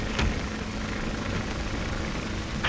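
A 1935 propeller skywriting plane's engine drones steadily and loudly throughout, a rough broadband roar with no talk over it.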